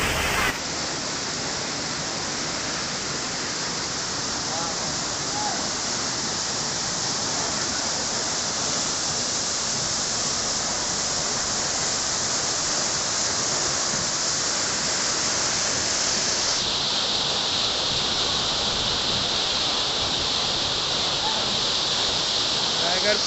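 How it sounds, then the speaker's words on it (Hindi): Tiger Point waterfall in Chhattisgarh, a continuous roaring rush of falling water, loud and unbroken throughout, steady as heavy rain with no pauses. "इस झरने के झरझर की आवाज़"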